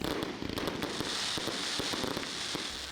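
New Year's Eve fireworks over a field in Manokwari, West Papua, bang and crackle in quick irregular bursts over a dense, continuous rumble of distant explosions, loud and sustained throughout.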